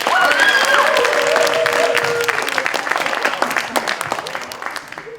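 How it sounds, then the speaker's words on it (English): A crowd applauds loudly, dense clapping that slowly thins out, with a voice briefly speaking over the start. "a round of applause"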